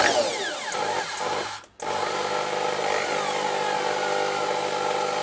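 A drill runs at a steady high-pitched whine in a cross drilling jig, broken by one brief dropout before the continuous buzz resumes with no talking.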